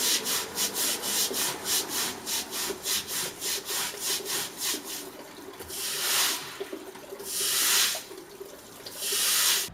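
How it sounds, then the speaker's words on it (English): A broom sweeping standing water across a flat gravel roof toward a drain, first in quick rhythmic back-and-forth strokes, then a few longer, heavier swishes, close and fairly loud. "I'm going to just sweep that into the drain pipe there"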